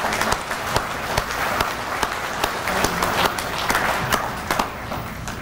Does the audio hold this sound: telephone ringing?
no